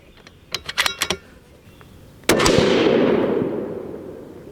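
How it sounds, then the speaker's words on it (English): A Bergara Premier rifle in .308 Winchester fires a single sharp, loud shot after a few light clicks and handling noises, followed by a long decaying outdoor echo. "we're gonna go ahead and shoot this group"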